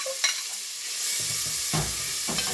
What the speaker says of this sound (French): j'ai coupé des oignons, de l'ail, du gingembre et le piment en petits morceaux que je vais verser dans ce mélange